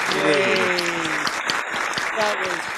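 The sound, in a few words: audience applause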